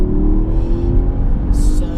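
A Porsche Panamera Sport Turismo with 550 horsepower pulls hard in third gear down a long straight, its engine a loud, steady roar with rising harmonics filling the whole moment.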